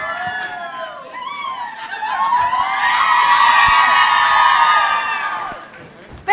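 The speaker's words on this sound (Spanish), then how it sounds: "Los lados que griten más" A conference audience shouts, whoops and cheers loudly as one side competes to be the loudest, the roar swelling into a sustained wall of voices before tapering off.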